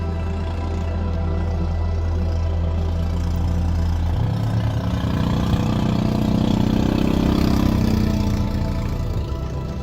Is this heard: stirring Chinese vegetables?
no